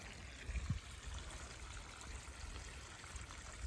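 Water trickles quietly through garden watering-system hoses outdoors, a faint steady flowing hiss with a soft splash or two near the start.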